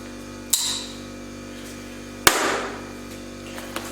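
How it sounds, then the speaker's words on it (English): A Spyderco Jumbo knife slices through two layers of cardboard and two layers of clothing, giving two sharp, loud cutting impacts about two seconds apart. Each impact is followed by a brief scraping tail, and a faint tap comes near the end. "the Spyderco Jumbo made it cleanly through the cardboard and through the clothing"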